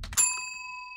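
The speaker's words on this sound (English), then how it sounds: "The bell rung." A single bright bell chime rings out clearly and sustains with a long, slowly fading metallic ring after some brief noise.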